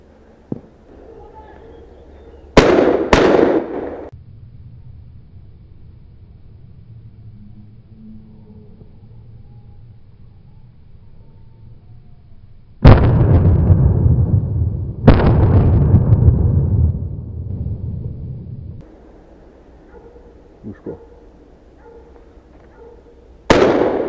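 Shotguns fire at crows during an outdoor crow hunt, several loud sharp blasts each ringing out briefly, some in quick pairs, with long quiet stretches between and a low hum of background noise.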